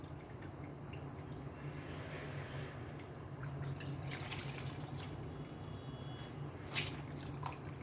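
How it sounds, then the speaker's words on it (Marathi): Soaked soya chunks are squeezed by hand and the water drips and trickles away, a soft, close, steady wet sound with no talk. "आता मी याला छान असं पिळून काढून घेणार आहे. याचं संपूर्ण पाणी छान असं निथळून घ्यायचं."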